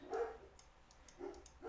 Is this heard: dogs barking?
yes